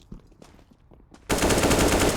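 Counter-Strike pre-fire on Overpass in an ESEA Open match: a few faint clicks and footsteps, then a sudden loud burst of sustained automatic gunfire.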